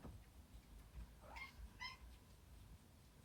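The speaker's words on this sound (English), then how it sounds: "Please excuse Bert, my cat." A short cat cry rises and falls over steady low background rumble, followed by a second brief meow; both are moderately faint.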